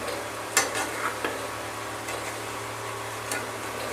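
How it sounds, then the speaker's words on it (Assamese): Fish and taro fry in a wok over a fire, a steady close sizzle with a few faint scrapes and ticks of stirring on top. "মাছ দিয়াৰ পিছত 5 মিনিট সময় ৰাখিলোঁ আমি জুইৰ ওপৰত কেৰাহীখন"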